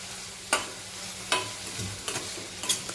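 Onion fries in a pan with a low, steady sizzle, broken by four sharp knocks or scrapes spaced about a second apart, fairly quiet overall.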